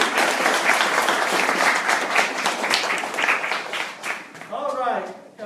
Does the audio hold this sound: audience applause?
yes